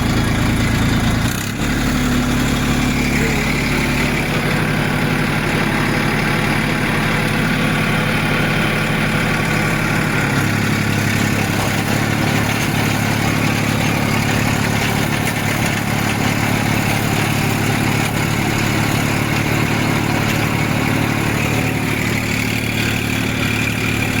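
A vehicle engine runs steadily at about 1500 rpm, close and loud, with a constant low rumble and a slight shift in tone partway through. It runs alone with no talk.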